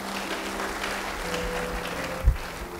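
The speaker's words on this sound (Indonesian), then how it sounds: "Beri tepuk tangan bagi dia." A church congregation gives a short, moderate round of clapping, a soft, continuous wash of hands with one louder thump near the end.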